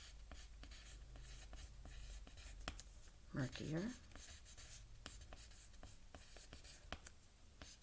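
A pencil or pen scratches words onto paper in short strokes and pauses, close and crisp, while a voice speaks briefly in the middle.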